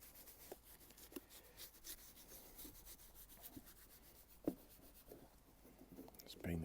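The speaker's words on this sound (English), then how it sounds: "just going to rub it into the shoe." Soft, quiet rubbing of cream into the leather of a pair of Goodyear-welted Cheaney shoes, a faint continuous scuffing with a few brief clicks and a louder knock at the end.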